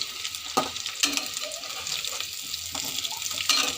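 Potatoes fry in a pan with a light, steady sizzle, broken by a few sharp clicks and scrapes of stirring, close but fairly quiet.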